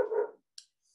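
A single short dog bark heard close and on its own indoors, followed by a brief faint yip or whimper, then quiet.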